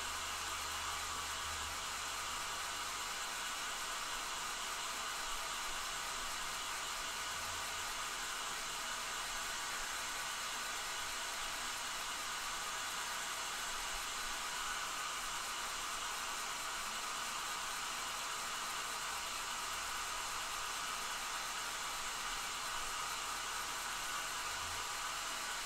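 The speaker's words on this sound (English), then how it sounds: "I'm just using the hair dryer here really fast." A hair dryer blows to dry paint on a McFarlane Toys Hellblaster Primaris marine figure, giving a steady, unbroken whooshing hiss that runs alone and fairly softly throughout.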